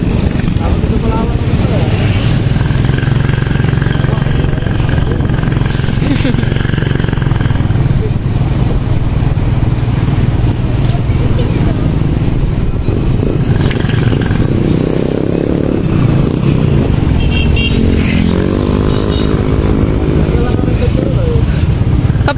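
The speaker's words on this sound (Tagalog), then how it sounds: "Ito pong motor na ginagamit namin ngayon." A motorcycle ride on the road to town brings a constant loud engine drone and wind rumble, with rattles and shifting engine pitch, while voices talk over it on and off.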